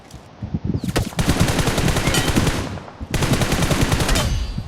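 Rapid, repeated gunshots from a video game crackle in two long bursts, split by a brief pause near the middle; the firing is loud and close, and no one speaks.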